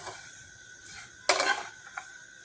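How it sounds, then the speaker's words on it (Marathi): Roasted vermicelli being stirred in a pan, probably with a metal spoon, giving a few soft scrapes and one louder burst of clinking and rustling midway, close and quiet, with no talking. "ह्या मी हलक्याशा परतून घेणार आहे।"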